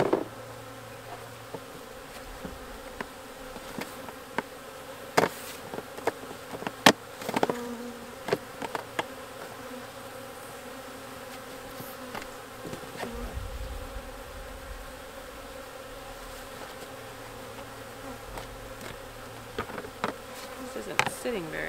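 Honey bees buzzing around a nuc hive during spring feeding, a steady close droning hum with scattered knocks and clicks of handling equipment.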